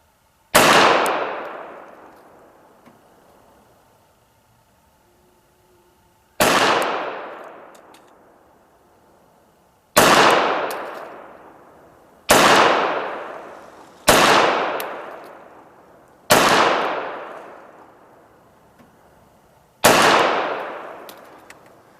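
A 1918 Colt 1911 pistol fires seven sharp, loud shots one at a time. The first few come several seconds apart and the later ones come quicker, and each blast rings out and fades in an open outdoor space.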